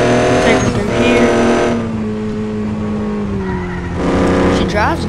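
An old project pickup truck converted to diesel drives around, its engine droning steadily with shifting pitch and faint tire noise throughout, the sound swelling near the start and again toward the end.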